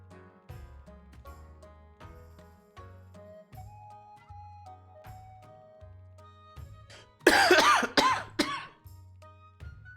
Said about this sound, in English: Oh, this cough is so annoying.